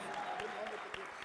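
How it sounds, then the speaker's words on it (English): Audience clapping at an enterprise development training session, a steady dense patter of applause filling the short moment, with faint voices mixed in underneath. "a round of applause for Ntando Shezi."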